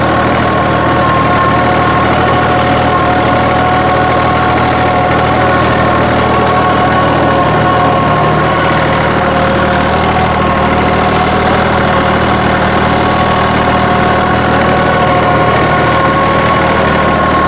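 A New Holland 3630 Super Plus 4WD tractor engine idles loudly and steadily up close, a constant low rumble with mechanical whine that never lets up.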